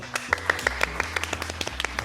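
Clapping in short, uneven claps, a few people striking hands in a quick irregular patter over about two seconds, with a voice faintly underneath.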